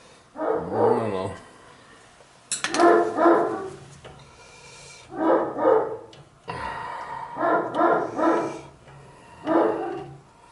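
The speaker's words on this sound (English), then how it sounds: "Sound like a big flipping dog." A big dog barking near a farm house, a series of deep, loud barks in several bursts with short pauses between them, some coming in quick doubles, with no voices over them.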